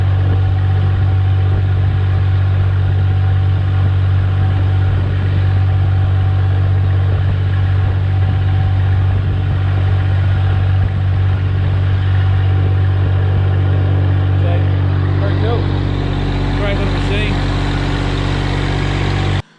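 A steady, loud engine idle recorded right at the end of a Kanga loader's exhaust pipe during a catalytic converter test, deep low rumble, holding constant with a slight shift near the end.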